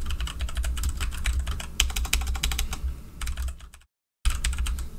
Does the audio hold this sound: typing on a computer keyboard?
yes